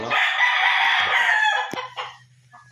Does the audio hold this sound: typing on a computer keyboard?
no